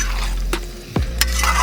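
Mutton with potatoes sizzles steadily in a pan outdoors, broken by a few scraping stirs of a spoon against the pot, with no voices over the cooking.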